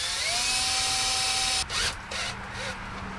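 A power drill drives self-tapping screws while prepping a 1967 Buick GS340 for drag racing, whining steadily at close range for about a second and a half, then stopping and giving a few short bursts.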